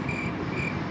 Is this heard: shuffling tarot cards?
no